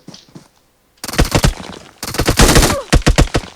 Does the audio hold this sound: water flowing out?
no